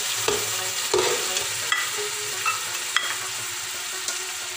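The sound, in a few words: spices, ginger-garlic paste and onions frying and stirred in pan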